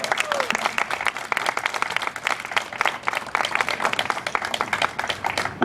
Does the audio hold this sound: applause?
yes